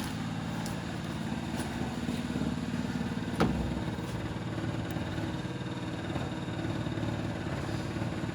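An unmounted engine lying loose in a barn-find Morris 1300 runs with a steady, rough mechanical drone and rapid rhythmic pulsing, moderately loud and continuous, with one brief sharp clank midway.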